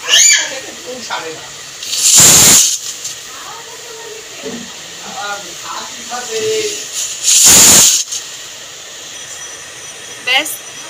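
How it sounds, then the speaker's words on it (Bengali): A pressure cooker cooking taro root lets out two sharp, loud steam whistles several seconds apart, with quieter kitchen clatter and a voice in the gaps between them. "ব্যাস 3 থেকে 4টে সিটি হয়ে গেছে।"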